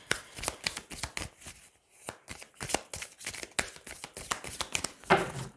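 Tarot cards being shuffled by hand in a series of quick riffling, flicking bursts with brief pauses, close and moderately quiet, ending in a denser flurry of card noise.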